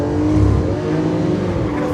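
A Lamborghini Aventador LP700-4 supercar runs on a very wet Anglesey circuit, its engine a loud, steady close drone with a sustained tonal whine throughout and no voices.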